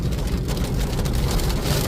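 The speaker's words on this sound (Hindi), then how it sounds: "देखो बहुत तेज बारिश हो रहा है, बहुत तेज" Heavy rain drumming on a car while driving, a dense, steady wash of patter over low road and engine rumble, loud and close throughout with no talk.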